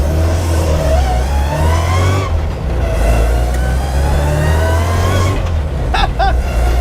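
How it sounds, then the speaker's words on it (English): Supercharged engine in a built car with straight-cut drop gears idles and revs loudly up close, a steady rumbling drone rising in pitch with a gear whine and a faint supercharger whistle, briefly dipping and surging again. "You've got the straight cut drop gears, and then you've got a hint of the supercharger"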